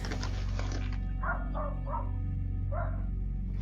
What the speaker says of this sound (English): I hear that dog barking back there